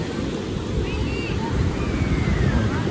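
Surf at Playa Blanca beach in Peru rolls in as a steady broadband wash, blended with gusty wind noise on the microphone and faint distant chatter from beachgoers.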